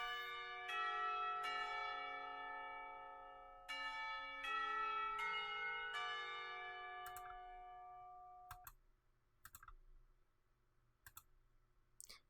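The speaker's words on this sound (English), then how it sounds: "The clock tower bells ring, signaling the end of the period." Clock tower bells in the school of the visual novel Katawa Shoujo ring out to end a class period: a run of clear, sustained strikes layered over each other, fading after about nine seconds into a few faint clicks.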